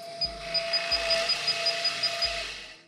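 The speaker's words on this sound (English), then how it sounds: "as it gets closer to the material, it'll start the motor" Motor of a Nova Viking drill press starting on its own as the spindle nears the material, a steady electronic whine with a low hum, soft periodic ticking and a few dull low thumps, fairly quiet.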